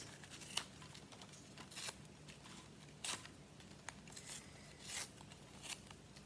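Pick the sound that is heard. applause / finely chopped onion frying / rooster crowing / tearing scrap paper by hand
tearing scrap paper by hand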